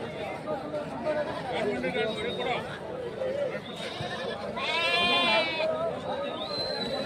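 Several Shahapur (Sindhanur) breed rams bleat repeatedly amid a crowd of livestock at a ram market, with overlapping calls rising above steady background chatter and people talking nearby.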